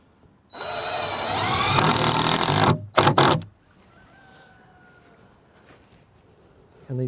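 Power drill whirring loudly for about two seconds as it drives a screw into wood for a chicken brooder, followed by two short bursts, then quiet room tone with faint background sounds.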